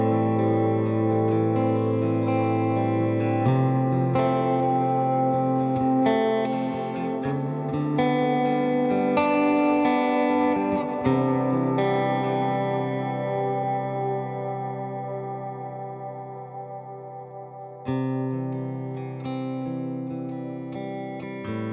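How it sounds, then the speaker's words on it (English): Electric guitar chords ring through a Flint reverb and tremolo pedal, a large ambient reverb letting each strummed chord swell and fade slowly into the background, with a few fresh strums across the passage. "The Flint I use as a nice ambient reverb, a large reverb that fades to the background pretty nicely."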